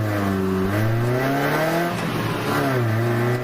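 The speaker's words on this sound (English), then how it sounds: "Get you a little Miata noise to get your Saturday morning going." A Mazda Miata race car at a ChampCar Endurance Series event at Joliet revs repeatedly on track, its engine note climbing and dropping in loud rising sweeps, close and continuous without talk.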